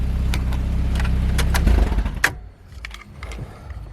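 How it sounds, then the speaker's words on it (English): A Saab 9000 engine with a trash bag stuffed in the exhaust rumbles loudly with a low, muffled sputter, then drops abruptly to a quieter, uneven idle. "Sounds so bad with the trash bag in the exhaust."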